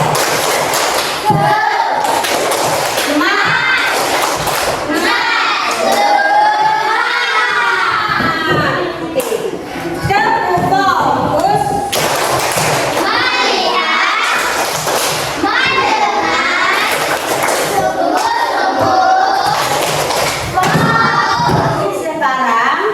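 Schoolchildren in a classroom perform a rhythmic group clapping cheer, with sharp, loud claps in repeated patterns mixed with their lively chanting and shouting voices throughout.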